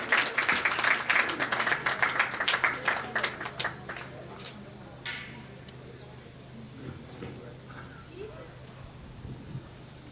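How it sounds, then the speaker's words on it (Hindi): An outdoor crowd watching officer trainees ride horses over hurdles gives a burst of scattered clapping that dies away within about four seconds. After that come faint outdoor ambience, wind and a low steady hum. "एक जोरदार तालियां हो जाए इन सभी के लिए।"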